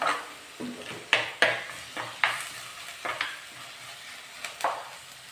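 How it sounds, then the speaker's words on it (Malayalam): Ginger, curry leaves and green chillies sautéing in a pan, with a steady low sizzle broken by sharp scrapes and clinks of a spoon against the pan every second or so, close and fairly loud, no talking. "ഒരു രണ്ട് രണ്ട് കറിവേപ്പിലയും ഒരു നാല് പച്ചമുളകും കൂടി ചേർത്ത് കൊടുത്ത് ഇതിൻ്റെ പച്ചമണം മാറുന്നിടം വരെ നന്നായിട്ടൊന്ന് വഴറ്റിയെടുക്കണം"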